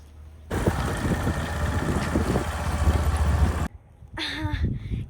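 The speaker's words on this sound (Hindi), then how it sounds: "एगो मोटरसाइकिल वाला आबै छै" A motorcycle engine runs loudly and roughly for about three seconds close by, then cuts out abruptly before a voice is heard.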